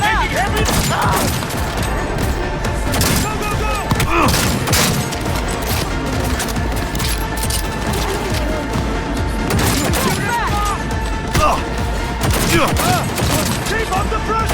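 Rapid bursts of gunfire from the video game Cyberpunk 2077 crackle through a loud, dense firefight, with repeated volleys and impacts layered over game music, plus occasional shouted voices.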